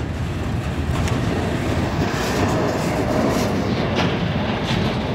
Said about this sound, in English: Is that another train coming? Or the same engine maybe?